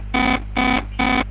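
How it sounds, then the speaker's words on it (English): A motor failure alarm horn on a control system sounds three loud, evenly spaced buzzy blasts, harsh and nasal, each about a quarter second long, with no talking. "silence the horn there"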